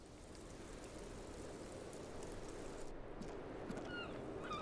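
Ambient rain from the video game Disco Elysium falls as a steady, soft hiss, faint and even throughout, with no speech.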